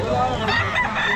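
A rooster at a busy pet market crows loudly and close, one sustained strained call over crowd noise and nearby chatter.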